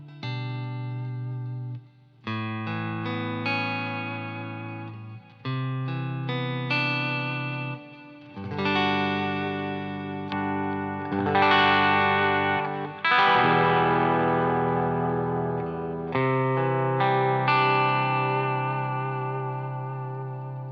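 Electric guitar played through a Klon overdrive pedal into an amp, with driven chords and melodic phrases that ring out and sustain, each phrase set off by short pauses, loud and up close with no voices.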